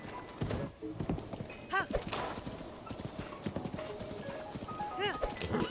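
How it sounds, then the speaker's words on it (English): Horse hooves clip-clopping close by on a relaxed day out in the wild, several uneven strikes with a brief whinny, while a person talks casually over them. "Oh, horsey."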